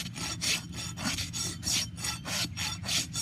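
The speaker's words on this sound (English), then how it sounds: "And just rasp." A rasp files a horse's hoof during trimming, a close, steady series of rhythmic scraping strokes, roughly three per second, with no one talking.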